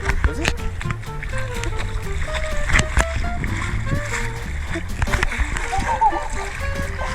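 A person jumps and splashes into cold outdoor water, with repeated sloshing and splattering bursts spread through the clip, close and fairly loud, under frequent conversation from several people nearby.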